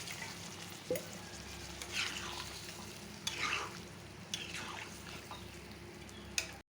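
Egg curry with taro and potato simmering in a pan after water is added, a soft steady sizzle with occasional stirring scrapes and clinks.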